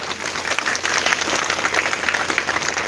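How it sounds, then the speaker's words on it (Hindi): Loud, sustained applause from a large audience at a Hindi business-plan seminar fills the hall, a dense, continuous crackle of many hands clapping with slight swells in intensity. "जोरदार ताली चाहूंगा पीछे तक"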